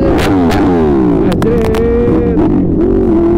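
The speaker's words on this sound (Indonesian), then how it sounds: "Nih motor lu keren banget nih suaranya." A motorcycle with an aftermarket exhaust revs up and down nearby, its loud exhaust rising and falling in pitch, with a few brief clattering noises.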